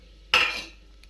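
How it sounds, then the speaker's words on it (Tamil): Dried red chillies drop into hot oil in a kadai for a ridge gourd chutney, giving one sudden loud sizzling burst that fades over about half a second, with faint utensil clinks. "இப்போது காஞ்ச மிளகாய் ஆட் பண்ணிக்கலாம்"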